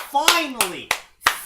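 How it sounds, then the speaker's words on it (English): Four sharp hand claps, close and loud, land at an uneven pace, with a voice speaking briefly under the first ones. "Everyone give the author a round of applause"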